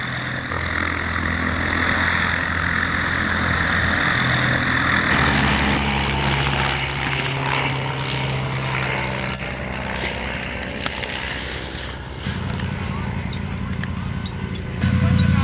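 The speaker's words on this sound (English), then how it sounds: "even an airplane this time." Droning propeller airplane flying overhead at a historical battle reenactment with infantry, armor and artillery, engine tone steady and shifting in pitch as it passes, with other rumbling vehicles and faint voices nearby.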